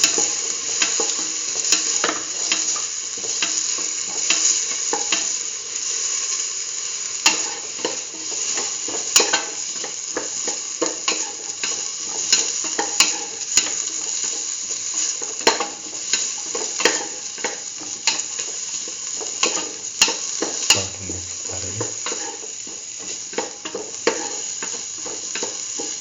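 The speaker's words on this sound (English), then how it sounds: "Now put in the tomato pieces. Keep on sauteing." Tomato pieces sautéing with chayote and green peas in a pan, a steady bright sizzle with frequent scraping stirs and utensil clicks, close and continuous without any talk.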